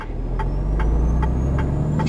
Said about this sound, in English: The truck sounds amazing.